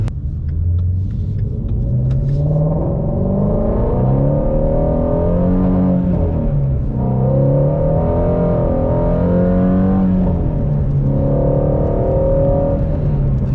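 Shelby GT350 on Cup 2 tires accelerating hard with traction control on, a loud close engine roar climbing through gears in repeated rising sweeps with brief dips at each shift, heard from inside the car.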